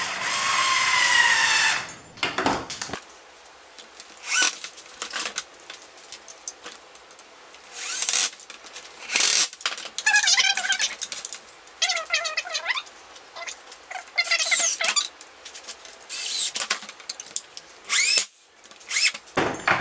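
A power drill drives screws into a wooden sawhorse in repeated whirring bursts, each run winding up and stopping, with brief quiet gaps and a few knocks between them, close and loud.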